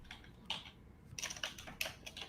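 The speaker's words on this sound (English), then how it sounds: "What are you typing?" Rapid bursts of clicking keystrokes on a computer keyboard, close and fairly quiet, coming in uneven clusters with short pauses between flurries and no talking.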